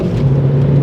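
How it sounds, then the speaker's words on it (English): Engine of a Volkswagen Polo GTi hatchback while driving, a loud steady low drone with a strong hum throughout, heard close and alone for under a second. "this engine is a potent wee unit"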